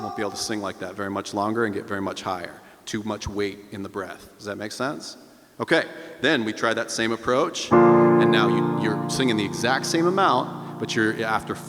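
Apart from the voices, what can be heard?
None of the usual background noises is heard.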